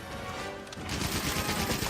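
Rapid heavy bowgun fire in Monster Hunter World comes as dense, continuous blasts that build in loudness partway through, with no talk over them.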